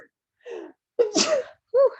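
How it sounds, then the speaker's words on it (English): A single sneeze bursts out after a short sniffing inhale, loud and close, followed by a brief voiced sound in a quiet indoor room. "I have to sneeze."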